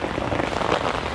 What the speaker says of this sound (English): the rain's coming down pretty good